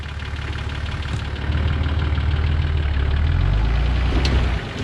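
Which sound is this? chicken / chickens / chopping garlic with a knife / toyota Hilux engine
toyota Hilux engine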